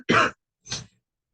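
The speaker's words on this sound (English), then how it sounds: "I'm really having trouble getting over the cough" Two short throaty coughs from someone recovering from flu, the first louder and rougher, the second softer, close up with silence after.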